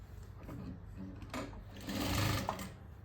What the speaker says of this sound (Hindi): पहले मैं इस पे एक ऊपर सिलाई लगाऊंगी।